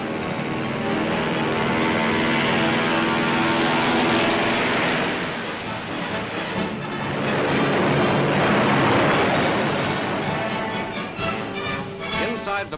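A Douglas DC-6 propeller airliner roars steadily through its takeoff run, a loud, sustained engine drone that swells and shifts in pitch, with a narrator's voice running over it.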